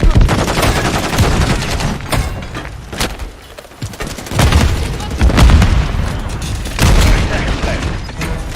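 A stun grenade bangs in a shooter video game amid loud, continuous battlefield noise, with heavy booms and rattling gunfire surging in waves throughout.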